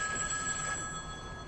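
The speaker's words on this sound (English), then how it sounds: "That must be the phone." A telephone rings during a stage performance of The Play That Goes Wrong, a faint steady electronic ringing tone heard alone in the theatre.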